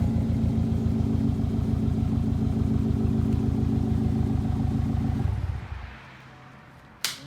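A 2015 Subaru WRX STi with a Remark catback exhaust idles with a loud, steady burbling rumble, then shuts off and fades, followed by a brief sharp click.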